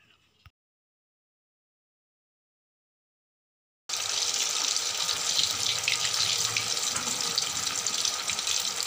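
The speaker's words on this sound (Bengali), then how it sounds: "তেল গরম হয়ে গেছে, এবার আমি পিঠেগুলো ফ্রাই করে নেব" After a long near-silence, sweet potato pithe hit hot oil and a loud, steady sizzling hiss begins and continues without a break.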